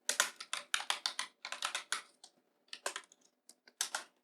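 Python class code being typed on a computer keyboard, a close, crisp run of rapid key clicks in quick bursts with short pauses, no talking.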